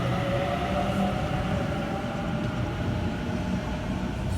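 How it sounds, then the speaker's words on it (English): A Sydney Trains Leppington service via East Hills pulls away from platform 4, a steady, loud rumble of rolling stock and traction noise running continuously throughout, with no talk. "And that Leppington service via East Hills departing platform 4."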